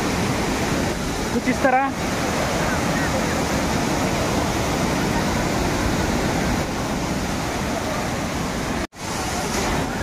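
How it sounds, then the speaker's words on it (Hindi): Aapkhol Waterfall in Bargarh, Odisha, pours down in a steady, loud, broadband roar of falling water that fills the whole stretch, with someone briefly speaking early on. "और एकदम वाटरफॉल पे जाके गिर रहा है पानी नीचे"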